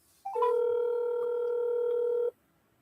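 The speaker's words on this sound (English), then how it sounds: "2, double dial." Telephone keypad dialing during real estate lead calls: a couple of brief rising tones, then one steady, clear dial-type tone held for about two seconds before cutting off, loud and alone.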